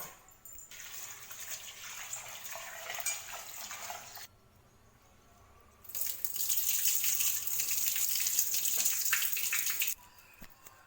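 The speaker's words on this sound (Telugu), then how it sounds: "కొత్తిమీరని అయితే శుభ్రంగా కడుక్కుందాం ఫ్రెండ్స్." Fresh coriander rinsed under a running kitchen tap: two bursts of flowing water splashing over the leaves, separated by a short quiet gap, close and moderately loud with no talking.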